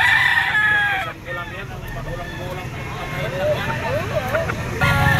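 Roosters crow repeatedly at a Lipa, Batangas chicken auction market, the calls rising over a steady crowd murmur and nearby voices, with clucking fowl and distant vehicles in the background.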